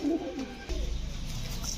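Pigeons cooing on a farm selling high-flyer Giribaz and racer breeds, a soft low coo near the start followed by a short burst of nearby fluttering rustle.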